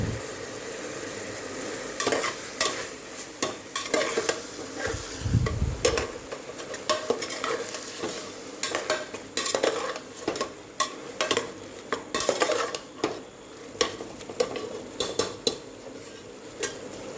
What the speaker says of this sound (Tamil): புதினா, மல்லித்தலை எல்லாம் போட்டு வதக்கி விடுங்க.